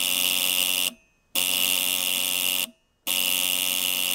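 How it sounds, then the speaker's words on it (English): Relay in a back EMF demonstration circuit, switched on and off from a battery beside a neon lamp, gives a loud steady buzzing chatter in two long bursts broken by short silent gaps, close up with no talk. "And you can hear the relay chattering away."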